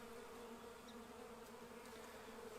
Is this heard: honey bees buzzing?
yes